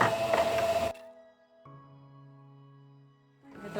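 A domestic sewing machine stitches a short backstitch at the end of a seam on a fabric phone holder pocket, a steady mechanical hum running alone for a few seconds between louder handling bursts at either end.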